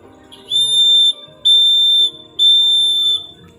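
Morse code letter O as three long, evenly spaced electronic beeps, each a pure high tone of about half a second, clear and alone.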